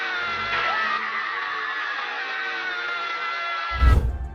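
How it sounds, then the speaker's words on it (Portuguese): A woman in the 1974 horror film The Texas Chain Saw Massacre runs down the stairs and screams at Leatherface. The scream is long, loud and sustained, and a heavy thump cuts it off at the end. "Sally desce as escadas correndo e grita com Leatherface"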